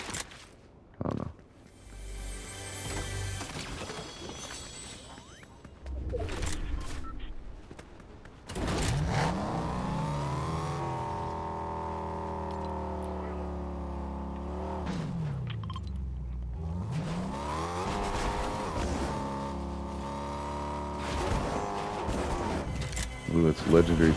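Car in the Fortnite video game, an engine droning and revving with rising and falling pitch, sustained over much of the stretch, mixed with earlier bumps and clicks and with players talking.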